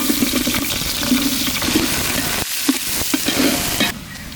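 Finely chopped onions sizzle steadily in hot cooking oil for a mutton paya (sheep leg) gravy, with stirring scrapes and brief dips in the frying hiss partway through, close and loud with no talking.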